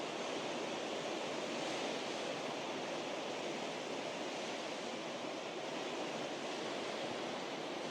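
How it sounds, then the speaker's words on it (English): A waterfall cascading on the Carter Falls Trail gives off a steady, dense rushing roar, constant and unbroken throughout, with no voices. "Beautiful day and a beautiful waterfall. I love how it cascades."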